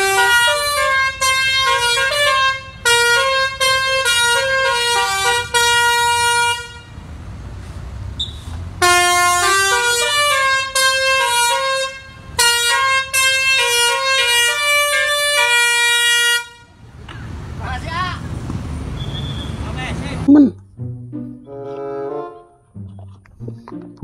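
Subur Jaya bus basuri horn, a loud multi-tone musical horn playing rapid melodic bursts and held chords in several phrases with short gaps, followed by rumbling traffic and a few blasts of a deeper horn.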